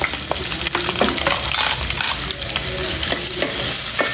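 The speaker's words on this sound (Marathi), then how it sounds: "त्याच्यामध्ये आपण कांदा टाकूया थोडा।" Onion fries in hot oil with curry leaves for a spicy Malvani chicken masala, a steady close sizzle and crackle broken by the scrape and clatter of stirring in the pan.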